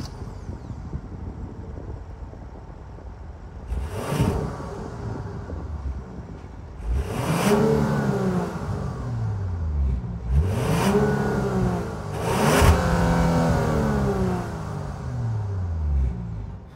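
A 2024 Genesis GV70 3.5T's 3.5-liter twin-turbo V6 is blipped four times from idle, each rev sweeping up and falling back, the last two close together, loud and near with no talk.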